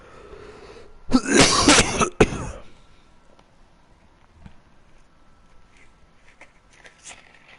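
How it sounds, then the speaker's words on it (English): Someone coughs loudly and close into a microphone, two harsh bursts of about a second each, followed by quiet room tone with faint clicks. "Sorry for coughing into the mic."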